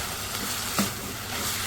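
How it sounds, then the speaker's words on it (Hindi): Vegetables stir-fried over high heat with chili sauce and white vinegar, giving a steady close sizzle with one brief scrape or clatter partway through and no talking. "इसको हम अच्छी तरह से भून लेते हैं सारी चीज़ों को।"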